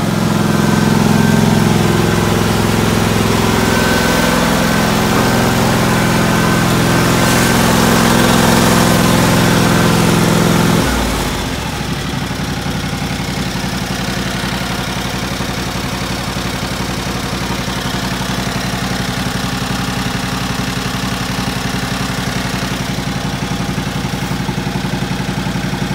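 A John Deere LX277 lawn tractor's small engine idles steadily on a cold January morning, loud and close; about eleven seconds in the tone drops lower as it settles into a quieter, even idle.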